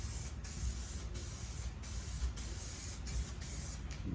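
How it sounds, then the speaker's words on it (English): Spray gun laying down a 2K epoxy primer adhesion coat on a filler repair, a low, steady airy hiss with faint periodic clicks, quiet and close with no talking. "Make sure it's spraying all right."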